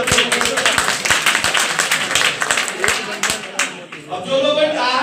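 An audience at a business seminar bursts into energetic applause, dense rhythmic clapping close by that briefly thins and then swells again, with voices mixed in.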